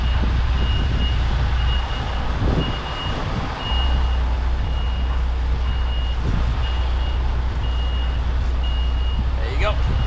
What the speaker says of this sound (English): See, I'm reversing.